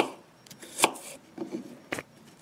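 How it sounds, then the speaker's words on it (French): A knife finely minces garlic on a cutting board, a few uneven close taps and chops with quiet gaps between, no talking. "Émincez-le finement."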